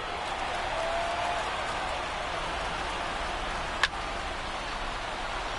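Large baseball stadium crowd of around 33,000 rising to its feet with two out in the ninth, White Sox down to their last out: a steady, broad roar of cheering and applause throughout, with one brief sharp crack near the end.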